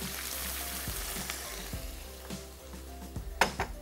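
Ginger and garlic sizzle steadily in a pan after a splash of water, a close, continuous frying crackle with occasional scraping stirs and clinks from a spoon.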